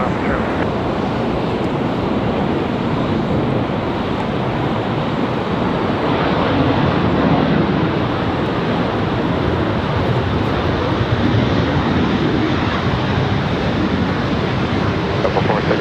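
A steady, loud broadband roar of an airplane landing on runway 23 left at Raleigh-Durham International Airport, holding constant throughout with no clear rise or fade.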